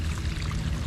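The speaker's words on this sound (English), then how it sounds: "That's the French drain, and it's collecting water." Groundwater pours steadily from a 4-inch French drain pipe, a continuous close splashing rush of water with no voices.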